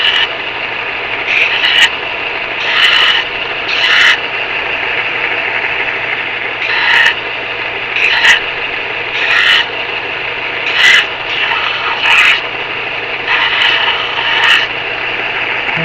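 A sander takes edge burrs off a part for a DIY wind generator, making a steady close abrasive rasp with repeated rhythmic scraping surges about once a second over a constant motor hum.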